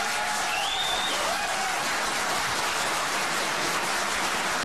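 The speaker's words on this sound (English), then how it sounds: "The revved up audience bursted into applause several times" An audience at a public meeting about saving the Troy Library claps in a dense, sustained burst of applause with a few faint whoops, loud and continuous throughout.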